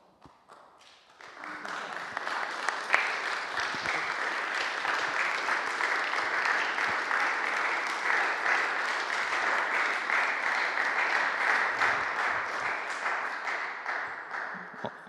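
A crowd bursts into sustained applause, many hands clapping steadily and loudly for several seconds before fading slightly at the end.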